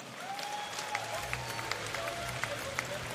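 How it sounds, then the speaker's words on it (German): Sustained applause from an audience at an amateur and professional MMA cagefight event in Hamburg, a dense steady wash of clapping with occasional louder claps and crowd noise, lasting throughout. "Meine sehr verehrten Damen und Herren, ihr Applaus."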